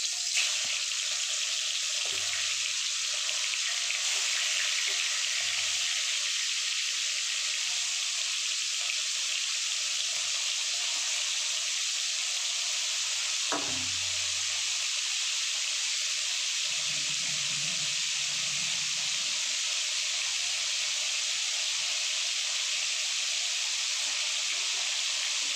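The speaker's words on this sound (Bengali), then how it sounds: "দেখুন তেল গরম হয়ে গেছে, আমি মাংসগুলোকে দিয়ে দেবো।" Chicken pieces fry in hot oil for chicken kosha, a steady bright sizzle running throughout, joined by occasional low clunks and stirring noises from the pan.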